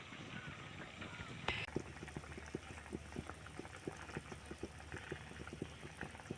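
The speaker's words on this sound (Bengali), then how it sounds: "এই যে মাছের ঝোলটা প্রায় ফুটছে" A pot of fish curry bubbles at a low boil close by, soft irregular pops and gurgles over a quiet background, with a brief clatter early on.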